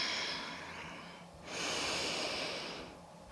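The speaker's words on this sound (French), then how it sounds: "la respiration qui s'accélère" Quickening breaths during a vinyasa yoga flow, with two long, close, airy exhalations, each swelling and then fading, and no talking.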